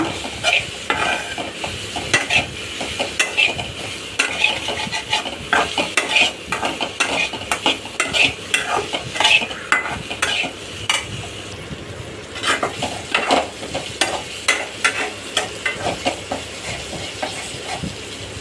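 Cauliflower pepper fry being stirred in a pan, with steady rhythmic scraping and clinks of a spoon against metal over a soft continuous sizzle, close and clear with no talking.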